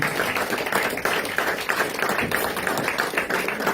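Congregation at a church consecration service applauding Jesus, steady rapid hand clapping from many people throughout, loud and close, with faint voices underneath.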